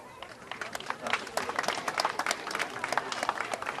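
Audience applause at an Italian song festival, La Scarpa Italiana: a scattered, moderately loud patter of hand claps from a modest crowd, individual claps audible as the clapping builds and continues.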